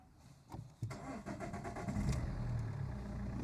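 The engine of a cheap Vauxhall Insignia car cranks briefly, catches and settles into a steady, slightly rough idle, heard close up from inside the car with no voices.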